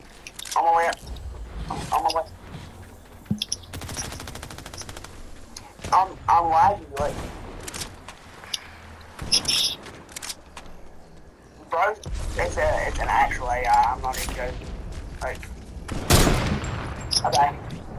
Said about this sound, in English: Is that you that just tried to snipe?